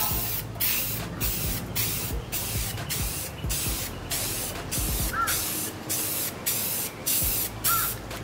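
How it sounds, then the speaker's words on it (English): A spray paint can sprays in a steady series of short hissing bursts, about a dozen in a row with brief pauses between them, up close. "Test spray."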